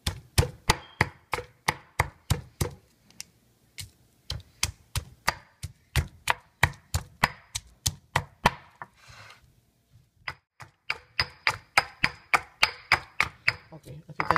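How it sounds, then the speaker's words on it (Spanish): Two large garlic cloves, halved, are crushed by hand with sharp, regular thuds, many strikes in a steady rhythm with a short pause midway, close and loud with no talk. "Aquí tengo los ajos machacados ya."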